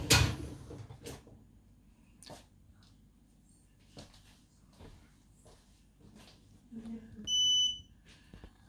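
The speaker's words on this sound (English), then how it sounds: "Nice, it beeped, probably now restarting or restarted already" An electric scooter controller right after a firmware flash gives a short, clear electronic beep of a few tones near the end, amid scattered handling clicks and quiet room sound.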